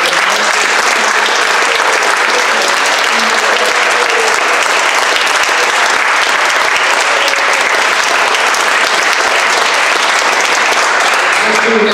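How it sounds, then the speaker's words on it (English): A bar crowd applauds loudly and continuously for the top players at a live football quiz night, dense clapping close by, with voices mixed in. "Let's have a round of applause for our top players"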